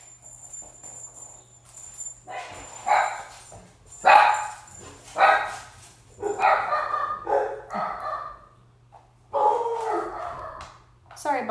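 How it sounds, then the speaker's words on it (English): Dogs barking indoors in a series of sharp, repeated barks and yips, fairly close and loud, over a constant faint insect-like hum, with a person speaking at times. "Sorry about the dogs barking."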